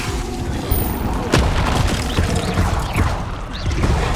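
Levioso spell cast in Hogwarts Legacy, a loud magical burst with a sharp whoosh at the start, followed by rumbling impact and clattering debris under continuous game noise.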